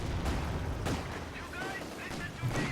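Battle gunfire from the Company of Heroes 2 strategy game, including machine-gun fire, pops and crackles in quick bursts against a dense, rumbling war soundscape, with a voice talking over it.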